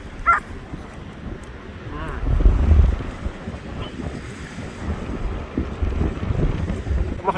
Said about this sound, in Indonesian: Gila anginnya, ramalan cuaca emang nggak hujan, tapi anginnya juga angin.